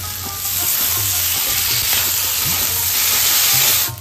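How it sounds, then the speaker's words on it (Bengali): Spice masala fries hard in hot oil with tomatoes and green chillies for a Bengali fish curry, giving a loud, steady sizzle and hiss that stays constant throughout, with faint stirring scrapes. "মশলাটা কষাতে কষাতে টমেটোগুলোও দিয়ে দেবো আর কাঁচা লঙ্কাগুলোও দিয়ে দেবো।"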